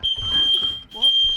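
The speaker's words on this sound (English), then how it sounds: "Fire alarm is going off." A fire alarm beeps with a steady high-pitched electronic tone, briefly cutting out before resuming, while a voice speaks underneath.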